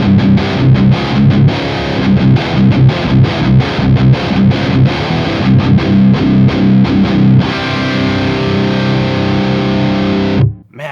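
An electric guitar plays heavy, thick distorted chords and chugging riffs through a Revv G20 amplifier in its red aggression mode, loud and continuous for about ten seconds before cutting off sharply at the end.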